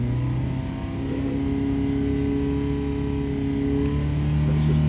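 A 930cc racing engine runs on a dyno with a steady, loud mechanical drone that swells slightly toward the end, heard alone without talk.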